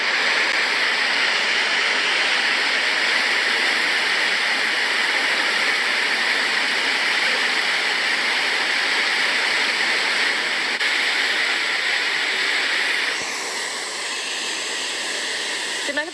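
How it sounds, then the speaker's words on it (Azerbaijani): The Bibihoni waterfall in Dizəzəmin village, Lerik district, Azerbaijan, roars as a continuous, loud, dense rush of falling water with no pauses, dipping slightly in level near the end. "bu şəlalə Lerik rayonunun Dizəzəmin kəndində yerləşir"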